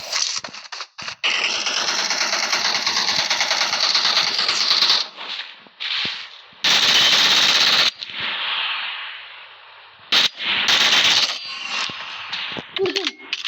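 Rapid automatic gunfire rattles in the PUBG Mobile video game, coming in long, loud bursts broken by short pauses, with faint game sounds between volleys.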